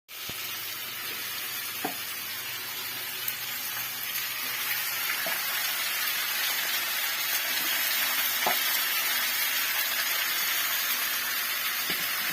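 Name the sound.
tomatoes frying in oil for eggplant curry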